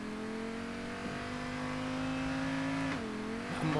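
A Lamborghini Gallardo-like sports car driven in Payday 2, its engine holding a loud, steady high-revving whine, with a brief dip and shift in pitch near the end as the revs change.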